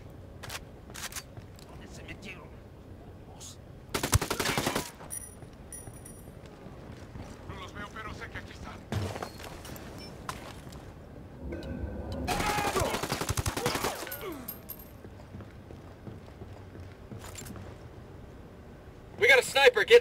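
Bursts of submachine gun fire from the video game Ghost Recon Wildlands, several short volleys scattered through a quiet stretch with faint background sounds, the loudest rattles coming near the start, middle and end.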